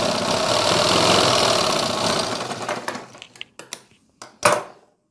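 An electric sewing machine runs steadily while stitching a long jacket at the shoulder seam, then breaks into short separate bursts as the fabric is repositioned.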